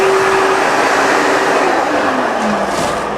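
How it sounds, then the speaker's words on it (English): A vacuum cleaner runs steadily at close range, cleaning up dust in an interior lead-paint work area, with a constant loud whine and a faint pitch shift near the end. "So he'll take the vacuum and vacuum some of it off real quick."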